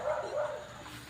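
A mangy dog lets out a brief, whining bark, close by and moderately loud, lasting only about a second.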